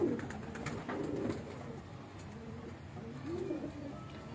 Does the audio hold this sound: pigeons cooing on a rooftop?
yes